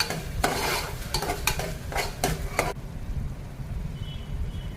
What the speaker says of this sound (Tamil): 4 தக்காளி சேர்த்துக்கிட்டு நல்லா வதக்கணும்.